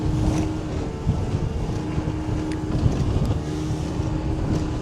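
A boat motoring out toward the deep sea among many ships, its engine a steady low rumble mixed with rushing water and wind buffeting the microphone, continuous and close throughout.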